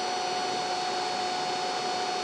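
A diesel air heater's blower fan runs steadily on a bench test with the fuel pump disconnected, giving a constant broadband whir with a faint tonal whine, unbroken and close.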